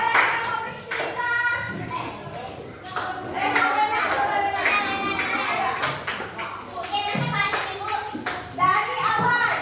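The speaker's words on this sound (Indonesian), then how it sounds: "tepuk tangan Mbak Iba." A group of children in a classroom clap their hands in bursts amid lively chatter and voices, close and fairly loud throughout.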